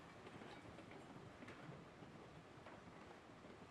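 Long freight train hauled by a Cooke 2-8-0 steam locomotive in the railroad game Railroads Online, rolling steadily with a continuous broadband rumble and faint wheel clatter, no voices.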